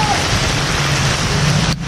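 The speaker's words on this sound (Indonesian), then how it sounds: "Hujan lebat." Heavy rain pours steadily under a bridge underpass, a dense continuous hiss of water hitting surfaces, loud and close throughout.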